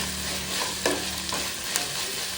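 Tomatoes frying in oil for chicken curry give a dense, steady sizzle, with a few faint spoon scrapes and taps through it.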